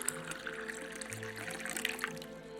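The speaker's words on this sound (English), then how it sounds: "He pours Schilling a glass of claret." Claret wine poured from a bottle into a glass, a soft trickling stream of liquid running steadily for a couple of seconds, close and fairly quiet.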